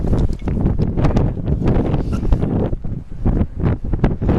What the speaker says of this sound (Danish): fordi det blæser rimelig godt